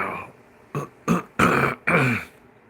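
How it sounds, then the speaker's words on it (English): Four short, rough throat-clearing bursts close up, each a separate gravelly rasp. "That hurts to clear my throat."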